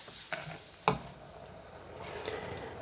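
Sliced mushrooms sizzle in a hot frying pan for a Carpathian lenten mushroom soup, with several close scraping stirs of a utensil over the steady crackle.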